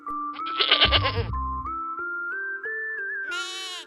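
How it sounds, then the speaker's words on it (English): A goat gives a short, loud, wavering bleat over soft background music, and a second, higher bleat comes at the end. "goat"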